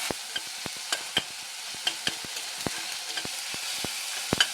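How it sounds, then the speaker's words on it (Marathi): Spices sizzle in a hot steel kadhai for a ridge gourd curry, a steady bright crackle punctuated by sharp clicks of a spoon stirring against the metal, close and with no voices. "ह्याच्यात आता बाकीचे मसाले टाकूया आणि परतून घेऊया."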